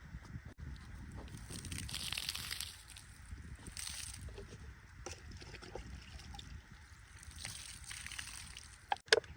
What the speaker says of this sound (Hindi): पानी भी लगा देते हैं साथ ही